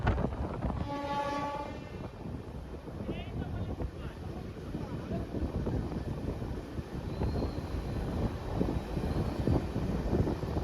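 A Purulia–Howrah MEMU passenger train running via Bankura rumbles along steadily, heard from on board, with a brief horn blast near the start.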